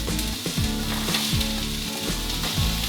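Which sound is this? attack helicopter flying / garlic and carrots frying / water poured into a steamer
garlic and carrots frying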